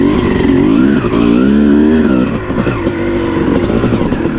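A 2006 Kawasaki KX250 two-stroke dirt bike fitted with a VHM head and 11 oz flywheel weight, ridden on a leafy trail, with its engine buzzing loud and close throughout and the revs climbing and dropping.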